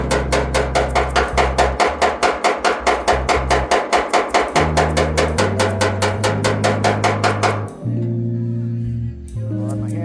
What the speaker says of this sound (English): when it comes to tapping down highs, you're going to want something like this peck hammer here